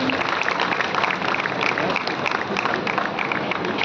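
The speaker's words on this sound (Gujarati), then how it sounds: "બાળકોનું તાળીઓના નાદ સાથે આપણે આ ક્ષણને આપણને વધાવીએ" Children and guests at a charitable building inauguration in Pratappur clap in steady, dense applause, loud and sustained, with faint murmuring underneath.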